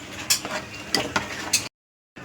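A spoon scrapes and knocks through sambar curry with chilli powder and sambar powder in a pot, giving a few sharp clatters in steady stirring before it cuts to silence.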